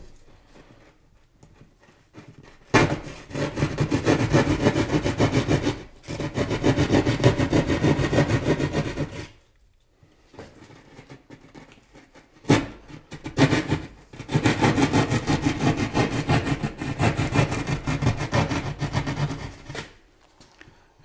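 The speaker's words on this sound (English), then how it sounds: "And then we'll take the drywall saw and cut in two." A drywall saw cuts through drywall in a garage, with two long bursts of rough rasping strokes separated by a brief pause and faint sounds at the start.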